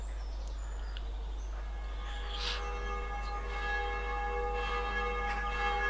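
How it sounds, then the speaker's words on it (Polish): A church bell tolls in the video game The Black Mirror, with repeated resonant strikes whose long ringing tones overlap and sustain over a steady low hum, loud and clear with no talking. "Co to, automatyczny dzwon?"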